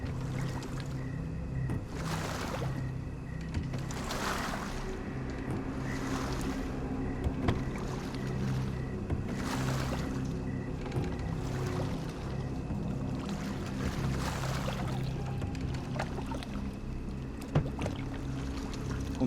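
A rowboat moves across water in the Sherlock Holmes The Awakened video game, with steady oar strokes splashing roughly every two seconds over a constant bed of lapping water and ambient rumble.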